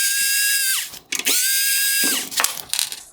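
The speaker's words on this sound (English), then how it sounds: "I will now remove the 3 T20 screws holding this bracket in place." A power driver spins out T20 screws from a 2019-2020 Mercedes-Benz C400 Multi-Beam LED headlight bracket, two sustained high whines that drop in pitch as each stops, followed by short clicks, close and loud.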